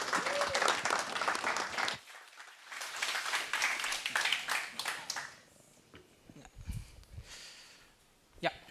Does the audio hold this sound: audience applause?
yes